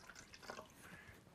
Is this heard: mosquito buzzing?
no